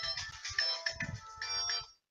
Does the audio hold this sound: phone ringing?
yes